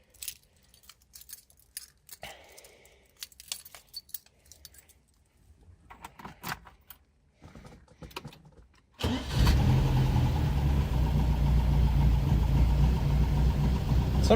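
A car at a car show jangles keys and clicks before the engine cranks and fires, then settles into a loud, steady, close idle that fills the rest of the clip.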